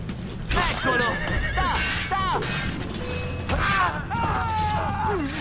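Several horse whinnies from Assassin's Creed Brotherhood ring out in quick succession amid clattering, crashing effects and a voice speaking.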